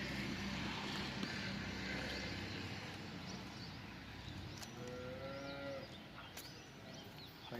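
A cow moos once in a drawn-out, low call partway through, faint against a steady outdoor hum, in a rural Gujarati setting where cattle are being bought and sold.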